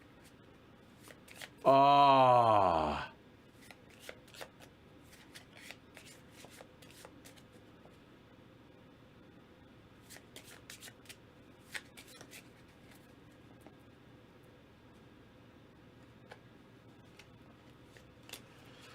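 A deck of cards from the World Wonders board game being riffle shuffled, one loud whirring burst lasting about a second, followed by soft handling clicks and faint room sound, with a brief spoken exclamation.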